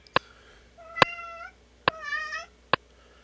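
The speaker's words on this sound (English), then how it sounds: "and that would be the cat" A house cat meows twice in a quiet room, each meow long and drawn out, close by and fairly clear, while sharp plucked lap steel guitar notes in open D tuning ring out around it.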